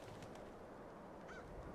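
Birds in Fallout 4 VR, one faint honking call rising briefly from a quiet, low ambient background.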